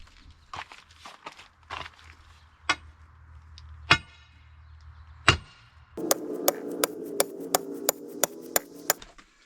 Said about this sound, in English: Slide hammer.